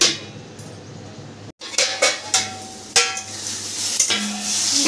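A cooking pot of paste-coated food is stirred with clinks and knocks of a metal utensil, then a lid is set down on it with a sharp clatter, all over a soft background sizzle.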